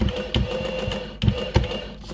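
A Sharp EL 2901PIII adding machine's printer runs, its mechanism chattering and whirring up close in a rapid rhythmic clatter, with a few sharper clunks.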